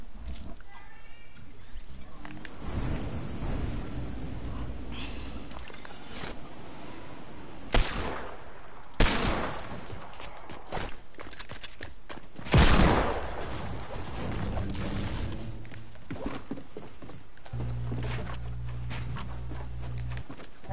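Gunfire crackles in a shooter video game, scattered sharp shots and short bursts standing out at several points over a background of game sounds and music, with a person talking at times.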